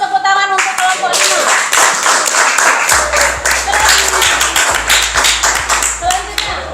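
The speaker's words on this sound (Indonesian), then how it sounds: "Tepuk tangan untuk kelompok" Students in a classroom clap for a group, with quick, rhythmic, close-up hand claps that run continuously. A voice is heard briefly at the start.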